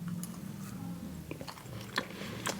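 Someone bites into and chews an Amiens macaron, a soft almond cake. Muffled chewing and a few small crunchy clicks come close to the mic, quietly and with no talking.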